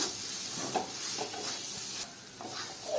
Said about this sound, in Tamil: அடுப்பை வந்து நம்ம லோ ஃபிளேம்ல வச்சு கொஞ்ச நேரம் வதக்கினா நல்லா வதங்கிக்கும்